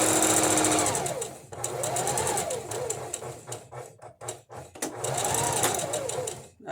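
A sewing machine stitches a quilt shape in close, loud bursts, slowing and stopping briefly at corners where the needle pivots, then running fast again.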